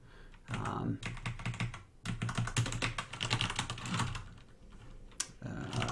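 Rapid clattering keystrokes on a computer keyboard during game programming, dense and close, running almost continuously with a few brief gaps and a louder click near the end.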